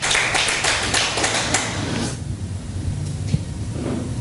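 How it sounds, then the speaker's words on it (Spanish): A church congregation gives a burst of clapping in praise during a Bible teaching on Romans, dense at first and then thinning out into scattered claps and room noise. "Denle un aplauso al Señor."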